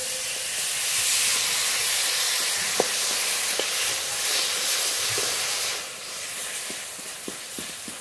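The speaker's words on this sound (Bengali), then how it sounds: "গুড় এখন মহার জন্য জাল দিয়ে নেব" Cane jaggery melting and heating in a pan for moa makes a steady steam-like hiss with soft sizzling, and a few faint clicks and taps come through near the end.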